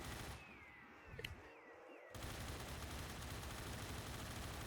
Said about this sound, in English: This gun is so loud.